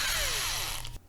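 A power drill running as a mechanic's workshop sound effect for a drift racing game, a steady whining whir with pitch sweeps, loud and close, cutting off abruptly near the end.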